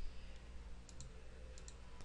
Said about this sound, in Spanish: Hacemos clic en ampliar